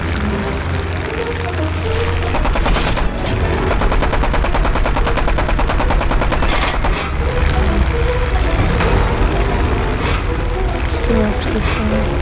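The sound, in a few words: aircraft machine gun fire in the video game War Thunder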